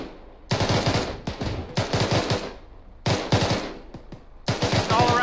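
Automatic rifle bursts in ArmA 3 during a large-scale co-op operation, loud and close, arriving in several rapid multi-shot volleys separated by short gaps.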